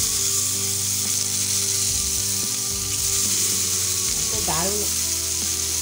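Tomatoes sizzle loudly in hot oil in a pan after potatoes are fried for a homemade potato pizza, a dense steady hiss with a few stirring knocks and brief speech near the end.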